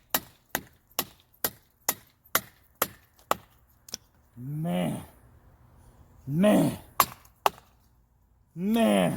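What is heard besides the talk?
batoning knife through wood log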